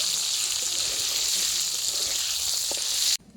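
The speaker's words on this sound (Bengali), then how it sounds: "এবার ভালোভাবে একটু নাড়াচাড়া করে নিচ্ছি" Potatoes fried with turmeric powder and salt hiss loudly and steadily in hot oil in a pan while being stirred, cutting off abruptly near the end.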